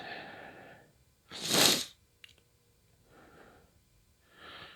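A single sharp sneeze up close, framed by sniffly breaths before and after in an otherwise quiet space.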